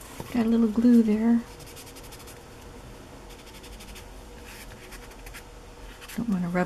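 Glued paper rubbed by hand onto a glue book cover, a soft scratchy rubbing between bursts of talk, faint and close.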